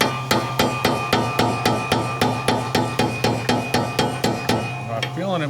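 A hammer strikes a metal punch against a gun barrel in a fast, steady rhythm, about twenty ringing blows in a row before stopping.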